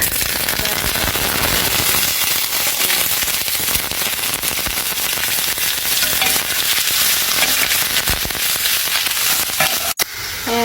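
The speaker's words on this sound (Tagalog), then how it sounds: "lutuin ko muna yung hotdog" Hotdogs frying in a pan with browned onion and garlic give off a loud, dense sizzle and crackle that runs steadily throughout, close up, with a brief clatter near the end.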